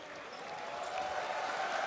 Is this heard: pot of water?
no